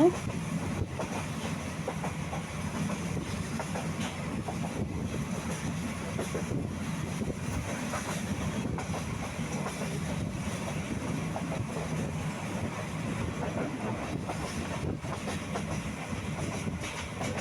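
A passenger train on the Chittagong to Sylhet route rolls along the rails, a steady, loud rumble and rattle heard from on board, with wind buffeting throughout.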